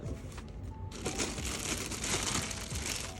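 Plastic bag crinkling and rustling up close as new VNLA junior skates are unwrapped, a steady dense crackle that grows louder after a brief dip.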